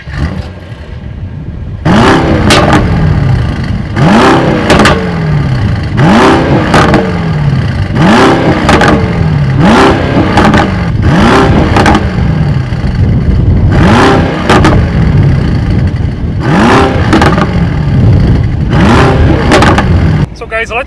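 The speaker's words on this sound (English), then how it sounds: "Alright guys, so now it's time to listen to the V8 sound." A 2024 Mercedes-AMG GT 63 coupe's V8 revs repeatedly, roughly nine sharp throttle blips in steady rhythm, each rising then falling away, loud and close, with no talk over it.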